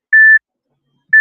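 A timer gives two loud, clean electronic beeps: a half-second tone, a pause of about a second, then a second beep that is cut short.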